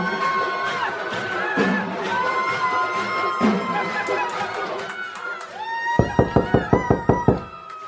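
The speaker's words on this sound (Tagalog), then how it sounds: "may kumakatok" Knocking on a wooden door in a rural Filipino village setting, a rapid series of about eight sharp raps near the end, following a noisy stretch of distant crowd laughter, singing and celebration with chatter.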